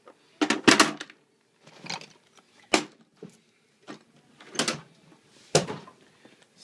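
A toolbox drawer is opened in a garage tool collection, giving several separate loud scraping and clunking bursts with short pauses between them, heard close and alone.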